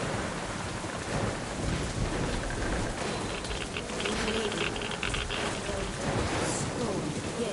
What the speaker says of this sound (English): Yes, the storm is starting again.